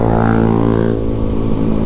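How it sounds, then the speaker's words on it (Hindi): A Yamaha R15 motorcycle engine drones loudly and close in traffic, a steady low rumble with a brief rise in pitch at the start. "ओ भाई कितना शोर मचा रही है R15।"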